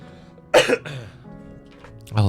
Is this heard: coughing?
yes